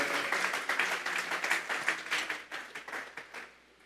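A church congregation claps together as an offering of praise to God during a service, a dense sustained wave of many hands that fades out toward the end.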